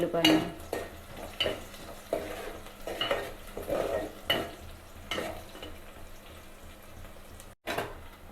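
Onions frying in hot tempering oil with seeds, a moderate sizzle broken by repeated rhythmic scrapes and clinks of a spoon stirring the pan, close and fairly loud.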